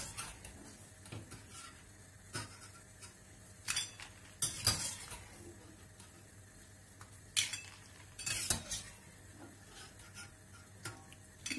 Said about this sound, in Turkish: Şimdi süzgeç yardımıyla patateslerimi hemen buzlu suyun içerisine alıyorum.